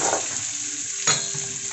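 Onions fry in a pan for a cauliflower kurma. A short, steady sizzle is heard alone at close range, with one soft clink partway through.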